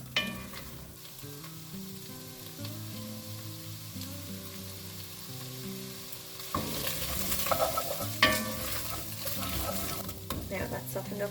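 Onion softening in butter in a pan for a beef stew, first under quiet tonal background music, then a louder, steady sizzle with spoon scrapes and stirring clatter near the end.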